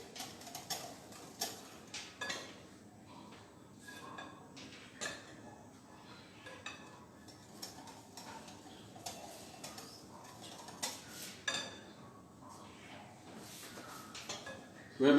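Dry ingredients being worked into wet ingredients in a mixing bowl, heard as repeated close scraping and light clinking taps in an uneven rhythm, moderately loud, with no talking over them.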